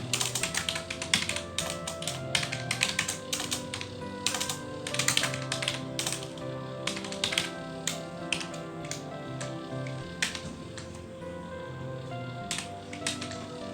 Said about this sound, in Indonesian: jika kita ketik cout halo kawan-kawan